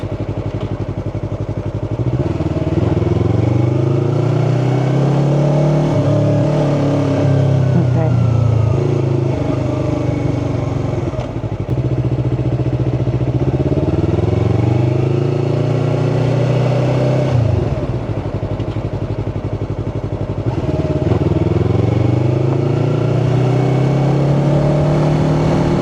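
A Yamaha R3 motorcycle engine revs and accelerates while being ridden, rising through gears in repeated sweeping pulls, loud and close, with short dips between shifts.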